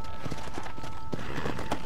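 A horse arrives in the video game Red Dead Redemption: Undead Nightmare, its hooves clip-clopping in a quick, close rhythm over a steady background tone.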